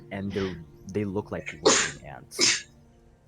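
A single sharp sneeze bursts out after a man's speech, loud and close, with talking before and around it.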